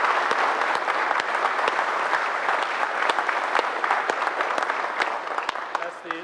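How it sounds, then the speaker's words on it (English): An audience at a US Navy all-hands gathering claps steadily and loudly throughout, a dense, continuous applause with scattered sharper claps standing out. "that's the rousing applause moment, right?"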